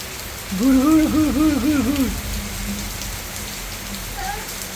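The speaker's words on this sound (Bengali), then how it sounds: "তুমি বৃষ্টি দেখো" Steady rain falls with a soft, continuous hiss throughout, while a brief warbling, sing-song tone rises over it early on and then fades.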